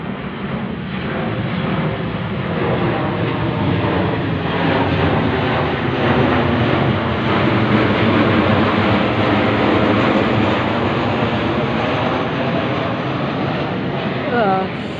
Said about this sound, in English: Small patrol plane going over